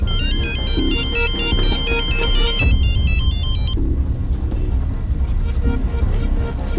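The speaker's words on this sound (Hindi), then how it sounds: "फोन आ रहा है आपका" A mobile phone rings loudly and continuously with a repeating electronic melody, its pattern shifting partway through, over a low background hum.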